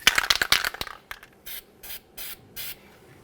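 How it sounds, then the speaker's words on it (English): Anti-seize being sprayed onto the tie rod threads of a 1999-2006 Chevrolet Silverado 1500 during a power steering rack replacement. A burst of close rattling and handling noise comes first, then four short, evenly spaced aerosol hisses. "Coat this area with some anti-seize."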